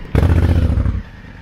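A Rumba vehicle being moved into a parking spot inside a restaurant, a loud close engine rumble with clattering knocks that lasts under a second and then cuts off into quiet room tone.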